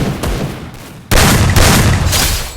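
Gunfire in a shooting video game lands as a headshot: a quiet stretch gives way to a sudden loud, broadband burst with sharp transients, staying dense and sustained to the end.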